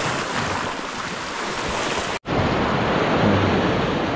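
Ocean surf rushes and churns loudly and close by, with heavy wind-buffeted roar that cuts out briefly and then resumes just as strongly.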